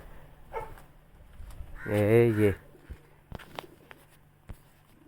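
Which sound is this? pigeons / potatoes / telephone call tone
pigeons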